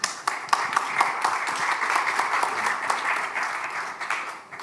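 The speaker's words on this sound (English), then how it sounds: "An applause too." An audience at a participatory-democracy conference in Europe claps steadily after a presentation, a dense, even patter of many hands lasting throughout.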